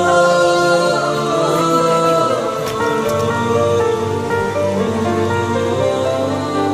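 Rain keeps falling steadily outdoors, a continuous wash of drops heard alongside music with a sustained tone throughout and no voices.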